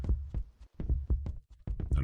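Steady thumping heartbeat in a video game chase, pulsing in regular double beats, close and low, with no talk over it.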